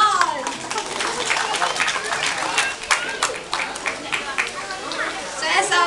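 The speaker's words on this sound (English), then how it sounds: "Let's give a round of applause to John." A crowd at a bird park pelican feeding show claps steadily, with chatter and a voice mixed into the applause.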